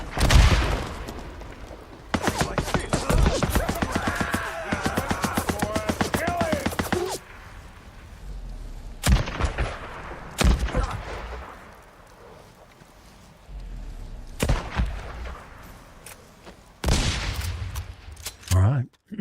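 Rapid bursts of gunfire in a Days Gone Remastered survival-mode shootout, long sustained volleys alternating with isolated sharp shots and quieter gaps, with someone talking over parts of the action.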